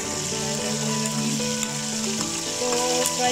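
Chopped onion, ginger, garlic and white chillies fry in hot oil for a moong and masoor dal. A close, steady sizzle and crackle runs throughout with no one speaking.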